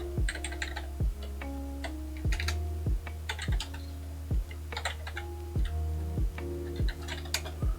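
Rapid typing on a computer keyboard, with sharp key clicks in irregular bursts and short pauses, close and clear over a low steady hum.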